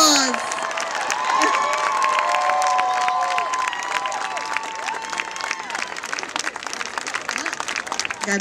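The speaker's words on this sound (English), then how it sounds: "Let's give them a round of applause." Large crowd at a UCLA rally applauding and cheering for the NCAA champion women's softball team, dense sustained clapping with whoops and shouts from many voices, loud and continuous, with scattered calls rising above it.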